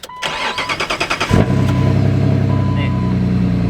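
A petrol car engine with an automatic gearbox cranks with rapid rhythmic starter pulses, catches and settles into a loud, steady idle rumble nearby.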